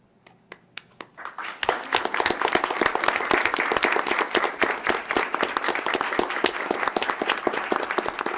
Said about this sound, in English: I'd also like to extend a round of applause for our students' family members joining us